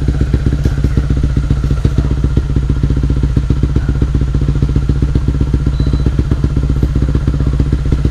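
A motorcycle engine runs on a dyno with a quiet exhaust, a loud, steady, rapid low thumping beat with mechanical clatter continuing evenly throughout, close up and without speech.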